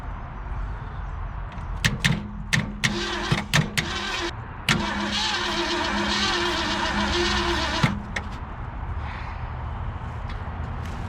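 An abandoned 1967 Ford Galaxie 500 cranks in several short stuttering bursts. It catches and runs roughly for a few seconds, then dies back to low background noise.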